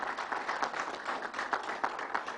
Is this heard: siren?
no